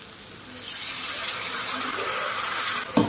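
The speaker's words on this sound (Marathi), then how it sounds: "पाणी तर ओतून घेते आधी पहिल्यांदा" Water gushes steadily into a pot of cooking vegetable curry, a close, continuous pour lasting a few seconds before ending with a soft knock.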